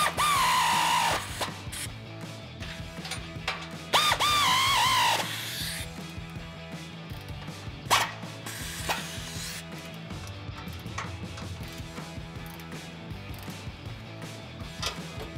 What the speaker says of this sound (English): I'm using an air ratchet with an 18 mil for these nuts.